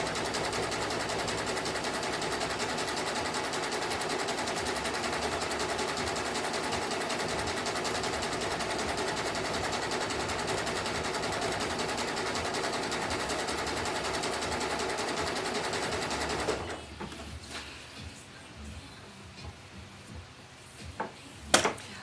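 A sewing machine stitches a clothesline coaster as it spirals around a centre point, whirring in a loud, steady drone for about sixteen seconds before stopping, followed by a few scattered clicks and handling knocks.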